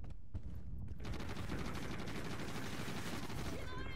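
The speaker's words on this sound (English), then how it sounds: "Yeah, keep shooting that building." Rapid bursts of gunfire shooting at a building, loud and sustained with overlapping shots throughout, while voices shout faintly in the background.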